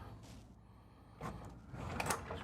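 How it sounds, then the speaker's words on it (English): A large pocket door to an RV bedroom slides shut in a 2026 Renegade XL 45DBM motorhome, a soft rolling glide building to a brief muffled thud near the end, with no talk over it. "we've got this nice big pocket door."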